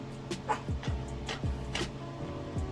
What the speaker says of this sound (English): my dog's barking in the back